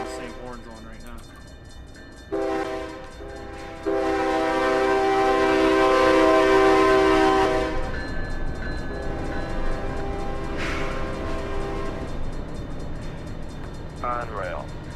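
Diesel locomotive horns sound in a Run 8 train simulator game, several loud sustained blasts over a steady rail rumble, with a short separate honk near the end.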